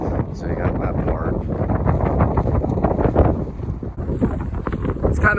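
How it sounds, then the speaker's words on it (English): Wind buffets a microphone outdoors, producing a rough low rumble that runs beneath a person talking throughout. "It's kind of windy"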